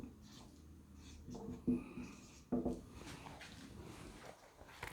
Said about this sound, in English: So let us write the given here.